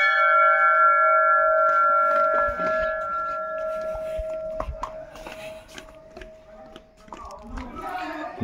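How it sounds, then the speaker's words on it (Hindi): Temple bells at Hat Kalika temple in Gangolihat ring out with bright, sustained metallic tones that fade gradually, followed by scattered clanks and shuffling sounds, with some talking in the background. "जो घंटी होती है ना, घंटी की जो साउंड होती है काफी अच्छी लगती है"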